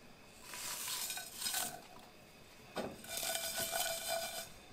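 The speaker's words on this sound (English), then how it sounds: "You do have to continuously stir, and all of these ingredients will toast in 10 seconds." Clove, anise, cumin and coriander seeds toasting in a dry pan, stirred continuously with a utensil scraping and clinking against the metal, with a faint sizzle running underneath in steady bursts.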